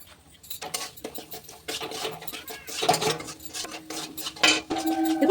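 Spices being stirred into oil in a pan for banana flower chops, with repeated scraping and clinking of a metal spatula against the pan in an uneven rhythm, close and fairly loud.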